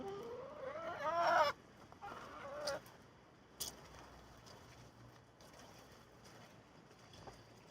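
Chickens in a level grassy garden give one brief burst of warbling clucks early on. Then there is a quiet outdoor background with a few faint knocks.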